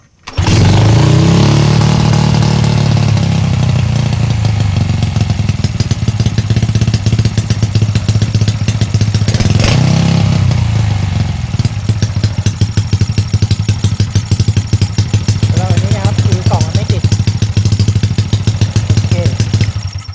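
A motorcycle engine with a repaired ECU box cranks and catches, then idles loudly and close with a steady throbbing putter, briefly revving around the middle before settling back to a rough, even idle.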